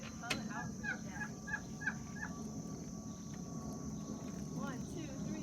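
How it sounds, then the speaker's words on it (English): Chickens and a rooster make soft clucks and short calls from inside a farm coop, faint and close together, over a constant low hum with steady insect-like buzzing in the background. "All our chickens and our rooster, and they're ready to come out for the day."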